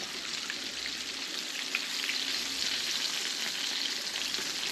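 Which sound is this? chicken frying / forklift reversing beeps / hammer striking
chicken frying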